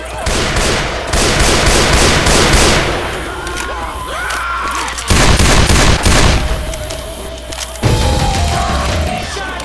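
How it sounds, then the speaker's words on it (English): A pipe bomb going off in the video game Dark Carnival: loud crackling bursts of blasts and rapid popping, in dense waves with short lulls between them, with faint voices underneath. "Just threw the pipe bomb"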